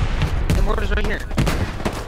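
Mortar and gunfire in a World War II battle game, a loud dense volley of sharp repeated blasts and booms, with muffled voices mixed in.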